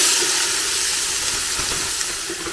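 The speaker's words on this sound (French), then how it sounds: "Je suis venue faire chauffer un petit peu d'huile et je vais venir verser ma viande hachée" Minced meat hisses and sizzles loudly and continuously in hot oil in a pan, a close, bright, steady frying noise with no talk.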